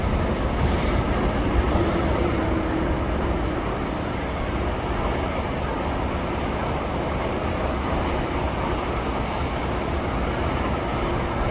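A long freight train hauling hopper cars rolls past with a steady, heavy rumble and clatter of wheels on rails, continuous and fairly close with no talk over it.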